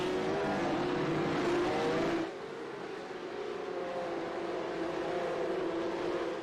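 Porsche Cup race cars roll through the opening corners on the Long Beach street circuit, engines droning loudly together before the sound drops to a quieter, steady hum as the pack moves away.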